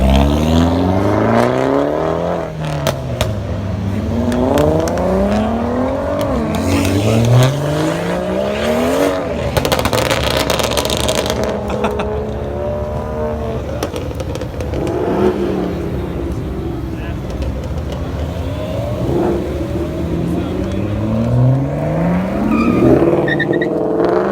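Fast cars rev hard and accelerate at an outdoor Cars and Coffee meet in Southlake, with loud, repeated rising engine sweeps, one after another, close by and continuous.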